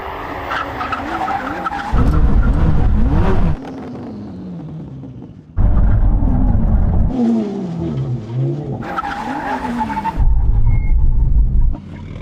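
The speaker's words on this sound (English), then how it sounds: "From high-speed, full emergency stop, and this time the Koenigsegg dominates." A Koenigsegg Jesko, Lamborghini Revuelto and 1000 hp BMW M3 brake hard from high speed in turn, loud roaring engines and exhaust bursts alternating with screeching tire squeal and downshifting burbles, close and intense.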